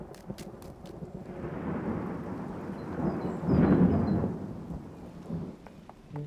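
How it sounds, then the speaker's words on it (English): A low rolling rumble of thunder builds and swells to a deep peak, then fades, with light rain hissing in the background. "Thunder won't hurt you, Grunty."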